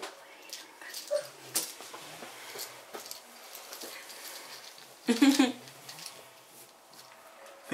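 A dog whimpers and yips in its sleep while dreaming, a few brief soft cries, one louder burst near the end, in an indoor room during a board game with faint background noise.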